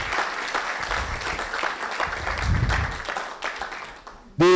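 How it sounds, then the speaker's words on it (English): Applause for a winner at Jamaica's inaugural Emerging Youth Leaders Awards, a steady crowd clapping that holds for about four seconds and then cuts off as a voice begins. "and that's a round of applause."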